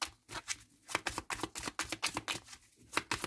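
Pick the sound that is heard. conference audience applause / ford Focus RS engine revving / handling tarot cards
handling tarot cards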